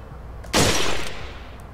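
A single sharp gunshot blast from a rifle in the video game Resident Evil 4, loud and close, followed by a short decaying tail.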